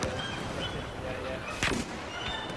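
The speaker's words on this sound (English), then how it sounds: "there was an explosion near you" Gunfire and blasts in a Star Wars Battlefront battle, a sharp loud burst standing out midway over a constant noisy combat background, with voices talking underneath.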